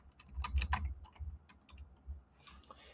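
Quick, light keystrokes on a computer keyboard, a close burst of soft clicking taps typing into a search bar, quiet and without speech.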